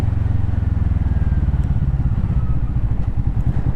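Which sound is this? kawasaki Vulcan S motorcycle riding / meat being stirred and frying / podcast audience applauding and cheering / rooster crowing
kawasaki Vulcan S motorcycle riding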